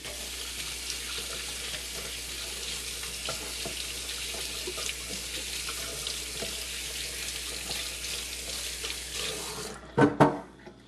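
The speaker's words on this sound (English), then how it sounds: "wash my hands" Hands washed under a running kitchen tap, a steady broadband rush of water lasting throughout, ending with a few louder splashes and clatters near the end; no talking.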